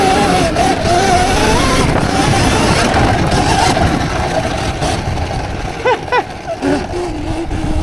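A custom RMZ dirt bike converted with an XUB 80 electric motor, heard while riding: a continuous loud whine and rumble whose pitch rises and falls with throttle, with brief squealing sweeps near the end.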